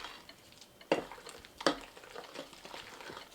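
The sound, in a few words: mixing eggs into Christmas cake batter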